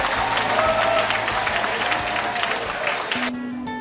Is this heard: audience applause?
yes